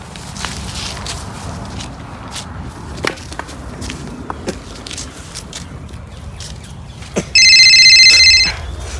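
A telephone rings in a short, loud burst of electronic trilling near the end, cutting over a room with scattered footsteps and light knocks.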